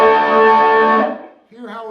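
An electric guitar through effects rings out a sustained chord from a song, bright and loud, decaying after about a second, followed by a softer, shorter chord.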